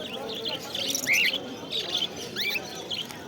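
Caged birds, including lovebirds, chirp at the Goria bird market in a series of bright, quick, rising chirps over a steady murmur of market noise.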